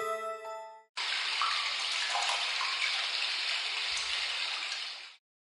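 Bathwater splashing and running at home late at night, a steady broadband wash that starts abruptly after a brief tonal chime, holds evenly for about four seconds, then stops.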